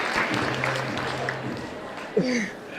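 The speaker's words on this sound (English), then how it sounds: "Big cheer for that." Sustained applause from an audience at a high school Blue Ribbon award ceremony, a steady wash of clapping throughout, with brief voices or cheering mixed in near the end.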